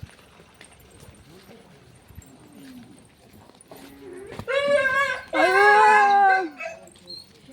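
At a temple door, a dog is struck and gives sharp, high yelps and whines in two close bursts near the end, preceded by quieter background sounds and faint voices.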